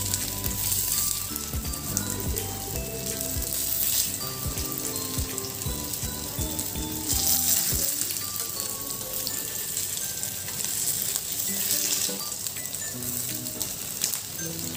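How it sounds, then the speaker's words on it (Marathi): Tikki patties sizzle steadily as they fry in a pan, a continuous bright crackle that holds for the whole stretch with a few soft clinks and knocks of handling. "मग खालच्या बाजूने देखील अशाच त्या थोड्याशा सोनेरी रंगाच्या होईपर्यंत फ्राय करून घेणार आहोत"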